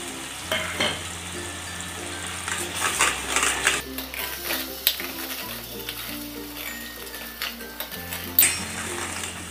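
Blended village tomatoes hit hot oil for a Khandeshi-style green chili curry. They sizzle loudly and steadily while being stirred, with occasional utensil clinks and background music underneath.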